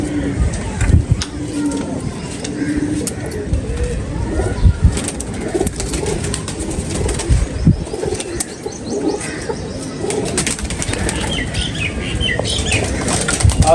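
Pigeons flap their wings in busy bursts throughout, with soft cooing and someone talking nearby.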